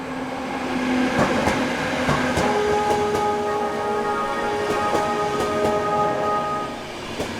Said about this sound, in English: A G7 passenger train bound for Szombathely enters the station behind Vectron 471005